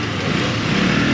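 A KTM Duke 200 BS6 motorcycle engine runs with a loud, steady, rough drone, heard close and alone over a brief moment just after it starts.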